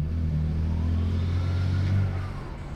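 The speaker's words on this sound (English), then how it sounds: "That definitely sounds like boost to me." A BMW N54 turbocharged engine with new downpipes accelerates under boost during a wastegate actuator test, giving a steady, loud, close-up drone with a rising whine over it and no talking.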